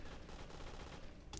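Rapid gunfire in the video game CubeZ, a dense continuous burst of shots lasting about a second and a half, loud and unbroken with no talking.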